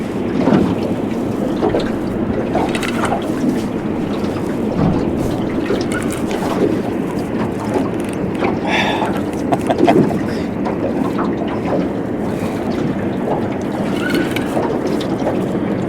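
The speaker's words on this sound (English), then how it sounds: "That old boy in that bass boat, he just left." A bass boat motors away across the water, its outboard giving a steady, low, droning rumble mixed with wind buffeting the microphone, with no talk over it.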